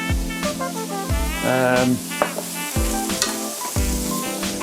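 Lebanese kofta kebabs frying in oil in a home kitchen, a close, loud, continuous sizzle broken by clatters and handling knocks, with no talking.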